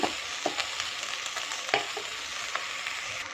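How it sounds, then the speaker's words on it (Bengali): Washed neem leaves frying in a kadai, a steady close sizzle with occasional sharp spatula scrapes and taps against the pan, alone without speech. "দেখো এরম করে ভেজে নিতে হবে আর কড়ার গায়ে এরম করে মেলে দিলে দেখো জলটাও নেই"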